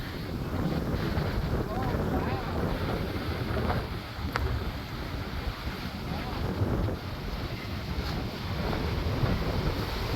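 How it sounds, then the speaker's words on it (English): Strong wind buffets the microphone on a coastal cliff above the sea, a loud continuous roar with gusty swells and no break. "Wind is pretty strong up here."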